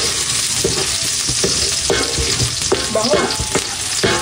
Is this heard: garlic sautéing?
yes